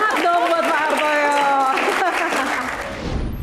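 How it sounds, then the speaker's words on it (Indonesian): An audience applauds for Pak Hartoyo during a studio panel discussion on the Constitutional Court, a steady burst of clapping with a tonal music sting beneath it that fades out toward the end. "tepuk tangan, semangat dong buat Pak Hartoyo"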